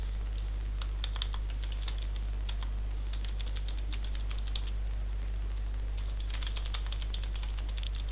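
Someone types code on a computer keyboard in a run of fast key clicks, pausing in the middle and resuming, over a steady low electrical hum.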